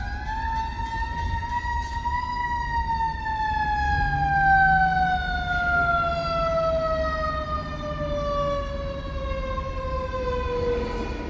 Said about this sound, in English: there's a lot of traffic here today. A lot of sirens.